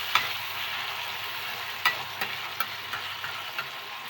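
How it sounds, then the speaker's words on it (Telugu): Chopped tomatoes stirred into a frying aloo brinjal curry, a steady close sizzle of oil with a handful of sharp spoon-scrape clicks spaced through it, no voices. "తరిగిన టమోటాలు వేసి కలుపుదామండి"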